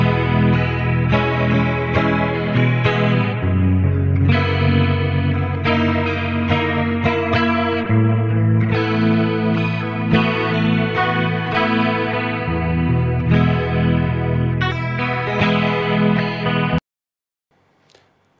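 Clean electric guitar with delay, with the track lowered 5 dB in a recording mix, playing a busy chordal riff with echoing repeats and chorus shimmer, steady and upfront for about seventeen seconds before stopping.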